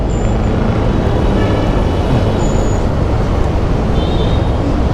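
Heavy night traffic between Fairview and Imus, Cavite rolls past as a constant broadband roar of trucks, buses and cars, close and loud, with a few faint high squeals from brakes or horns and no speech.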